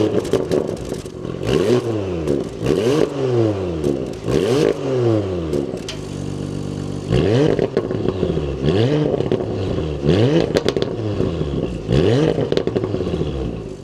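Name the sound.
2026 Porsche Macan S start-up and exhaust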